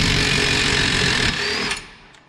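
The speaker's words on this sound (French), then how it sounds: "On peut enlever le cliquet, finir à la péteuse." A pneumatic impact wrench works on a Renault Clio wheel during a wheel bearing replacement, giving a loud, steady, rattling whir for about a second and a half before it winds down and fades, with no talk.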